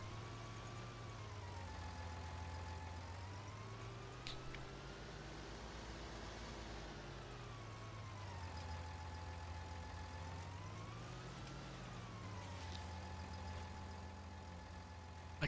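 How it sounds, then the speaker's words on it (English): A truck engine idles in Farming Simulator 19, a low, steady rumble whose pitch slowly rises and falls in waves, quiet and continuous with no talk. "I love the sound of that truck"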